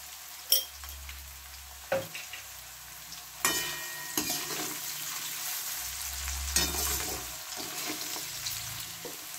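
Vegetables including carrot and capsicum, lightly salted, frying in a pan for veg chowmein, with a steady soft sizzle and intermittent sharp stirring scrapes close by, no talk.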